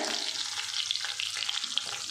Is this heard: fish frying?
yes